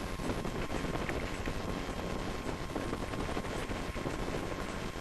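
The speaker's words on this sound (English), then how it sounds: "Quite windy on this particular day." Steady, loud wind roars and buffets the microphone throughout, a continuous rushing noise with gusty rumble and no pauses.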